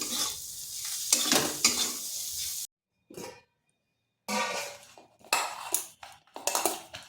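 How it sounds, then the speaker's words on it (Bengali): A spoon stirs and kneads a thick egg and wheat flour mixture in a bowl, with bursts of scraping and clinking against the bowl separated by short pauses. "এটাকে আরেকটু মথে নিচ্ছি।"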